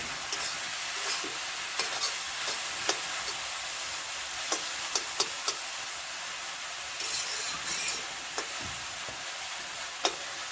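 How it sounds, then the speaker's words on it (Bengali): Kulmi greens fry in a pan with a constant soft sizzle while a spatula stirs them, scraping and tapping against the metal in scattered sharp clicks, close and fairly quiet. "শাকটা ভাজা হয়ে গেছে, এখন আমি নামিয়ে নিচ্ছি।"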